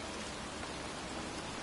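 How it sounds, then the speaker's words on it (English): Heavy, pouring rain falls steadily in a cemetery, a dense and even hiss of countless drops that holds unchanged and fairly loud throughout. "standing in a cemetery in pouring rain"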